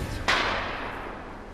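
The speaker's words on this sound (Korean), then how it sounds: "총소리가 들렸습니다." A single sharp crack of a hunting gunshot rings out once in the Siberian Altai, followed by a fading echo that trails off across open ground; no voices.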